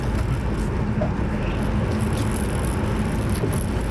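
Interior rumble of an MG ZT driving along an open road, steady engine drone with some rattling and knocking from the exhaust, no talking.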